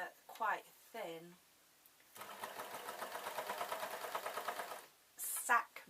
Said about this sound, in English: I am just continuing to sew round.